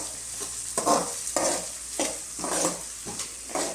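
Onion and ginger being stir-fried in a pan at home, with a steady sizzle and repeated scraping stirs in a regular rhythm, close and moderately loud with no talk.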